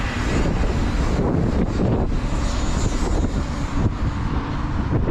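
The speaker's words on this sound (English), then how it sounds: "A very windy day," Gusty wind buffets the microphone outdoors, a rough continuous rush with brief lulls, loud and close throughout.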